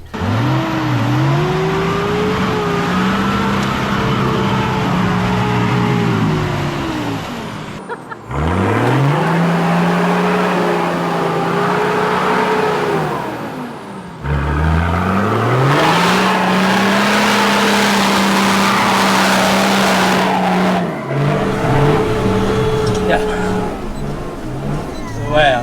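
A car engine revs hard and repeatedly as it ploughs through a wall of thick mud on a rough off-road track, run in third gear with a clutch drop. Loud, sustained surges rise and fall several times, with voices talking over them.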